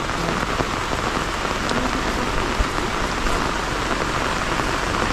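Heavy rain falls steadily on a surface nearby, a dense, even hiss of drops that holds throughout with no voices.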